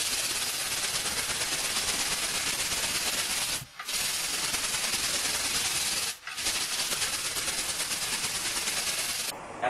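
Steady hand sanding of body filler on a 1959 Chevy pickup truck hood with 80-grit sandpaper, a continuous loud scratchy rasp with two brief pauses, no voices.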